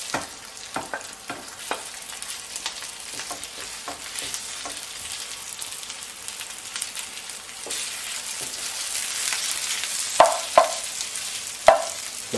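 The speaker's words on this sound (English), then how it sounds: "Okay, once the onion's got a bit of colour, put in the sausage" Pork sausage and onion frying and browning in a pan, a steady close sizzle with scattered clicks and scraping taps of stirring, a few sharper knocks near the end, no talking.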